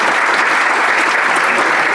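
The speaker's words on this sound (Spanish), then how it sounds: "un aplauso para Antonio" Audience applause for a man named Antonio at a science conference talk, a dense, steady burst of clapping from a large seated crowd, loud and continuous throughout.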